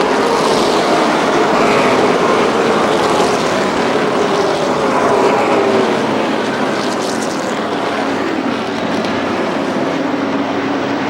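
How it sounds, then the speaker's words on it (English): Race cars roar around the Motordrome Speedway during a MAARA 100 race, a loud continuous engine drone that swells and fades slightly as cars pass, with no voices. "In turn number 4, Tommy Beck jumps on the loud pedal."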